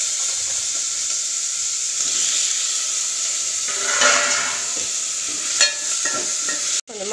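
Tomatoes fry in a pan with a steady, close sizzle and hiss, broken by a few stirring scrapes and clinks toward the end; no one speaks.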